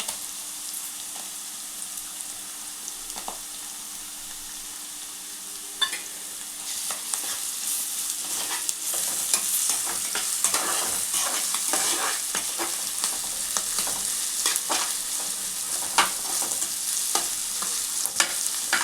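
Chopped onions with ginger garlic paste fry in hot oil for a korameenu fish curry, a steady close sizzle with scrapes and clicks of stirring throughout, getting busier partway through.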